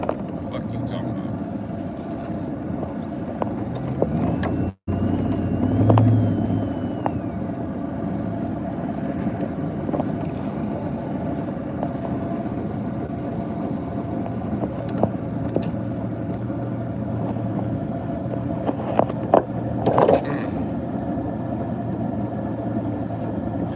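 Car accelerating with a worn, faulty rear end gear, giving a steady engine and drivetrain drone heard from inside, with talking over it.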